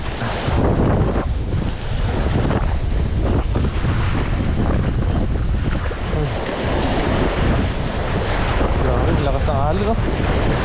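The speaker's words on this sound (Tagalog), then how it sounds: "Lakas ng alon, no?" Strong sea waves crash and roar on a shore, a loud, continuous wash of surf with heavy wind buffeting the microphone, and faint voices now and then beneath the noise.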